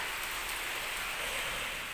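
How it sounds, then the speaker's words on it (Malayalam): A steady hiss of heavy, windy rain falls continuously, even and moderately faint, with no voices. "മഴ നന്നായിട്ട് ശക്തിയായിട്ട് ഒരിക്കൽ നല്ല കാറ്റും കാര്യങ്ങളും എല്ലാം ഉണ്ട്."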